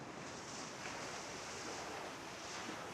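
Waves washing onto a seaside shore make a soft, steady rush of surf, faint and continuous with no pauses and no voices.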